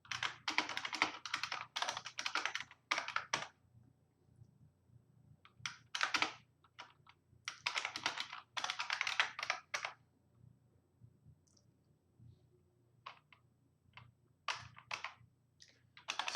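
Code being typed on a computer keyboard for Game Boy assembly programming, bursts of rapid close key clicks separated by short pauses, with no talking.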